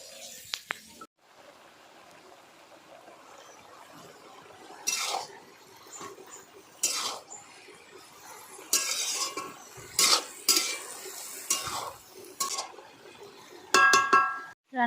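A metal karai wok is scrubbed clean in a rural kitchen, with scattered scraping and clinking bursts of metal against metal, some sharp ringing knocks, set against a quiet background.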